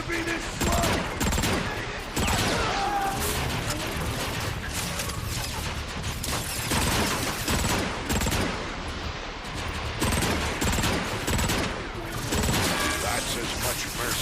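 Gunfire from a G11 three-round burst weapon in a Transformers video game, with rapid cracking bursts repeating densely over loud battle noise and mechanical clatter.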